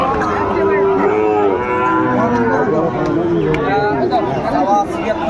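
Sahiwal cattle low repeatedly amid a busy crowd at a cattle market, several moos overlapping with background chatter and people talking nearby.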